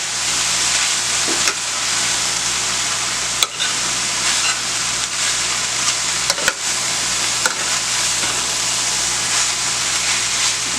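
Rice and vegetables stir-frying in a pan for vegetable fried rice, giving a steady, loud, continuous sizzle and hiss with a few brief clacks of stirring, close up and without talk.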